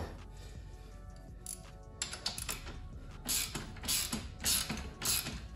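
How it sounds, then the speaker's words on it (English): A 14mm ratchet tightens the swing arm axle on a 72V Razor MX650 supermoto electric motorcycle, giving close, rapid clicking bursts in repeated strokes that grow louder toward the end, with no talk. "Just a 14mm ratchet."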